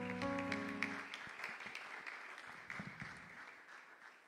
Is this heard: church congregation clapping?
yes